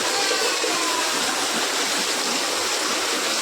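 Heavy monsoon rain with rainwater rushing through a flooded home courtyard, a steady, loud broadband wash of pouring and flowing water throughout, with no voices.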